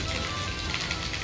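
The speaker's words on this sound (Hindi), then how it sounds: "बहुत तेज़ बारिश हो रही है और बहुत तेज़ हवा चल रही है" Heavy rain with strong wind, a dense, steady hiss of drops pounding a surface, loud and continuous with no voices.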